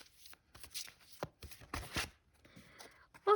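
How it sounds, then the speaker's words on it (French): Tarot cards being shuffled by hand in a few uneven bursts of riffling and sliding, close and fairly quiet, with short pauses between. "J'arrive pas à mélanger les cartes"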